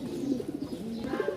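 Pigeons held in cages at a pigeon sale coo continuously, a chorus of low rounded pulses repeating close by in a steady rhythm, with no voices.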